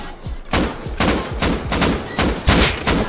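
An AK rifle fires in Rust as a quick string of sharp, loud shots, single cracks and short bursts coming close together over a few seconds.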